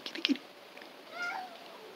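A feral neighbourhood tuxedo cat meows outdoors at night, a short mew near the start and a longer, softer drawn-out meow about a second later, both fairly close and alone without talk.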